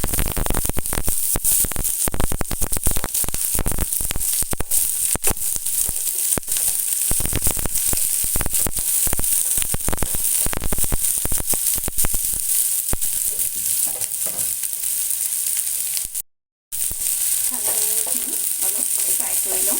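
Chopped vegetables sizzling and crackling in a pan on a gas stove for macaroni, a loud steady frying hiss with stirring clatter throughout, broken by one brief silent gap.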